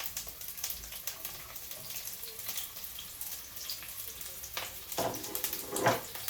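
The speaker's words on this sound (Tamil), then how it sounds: "இப்போ நான் இந்த வெங்காயத்தையும் இந்த உள்ளியையும் போட போகிறேன்." Onion and garlic hitting hot oil in a pan with a steady crackling sizzle that swells briefly near the end, close and moderately loud, with no talking.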